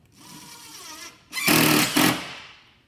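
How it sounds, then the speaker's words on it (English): A power screwdriver drives screws into metal stud framing: a faint buzz, then two short, loud whirring bursts close by. "I'm gonna put three screws in it."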